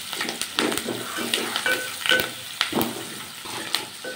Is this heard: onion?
yes